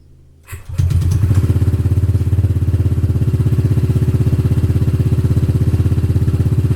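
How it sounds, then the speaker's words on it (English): Honda ADV 150 scooter with a raw Yoshimura exhaust starting up and settling into a loud, close, steady idle with a fast even thumping pulse. "raw Yoshimura exhaust, so it's gonna be loud"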